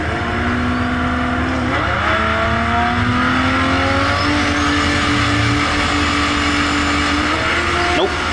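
A boosted Toyota Supra engine pulls hard on a run, a loud sustained roar rising steadily in pitch through the gears with a short shift break, heard from close by.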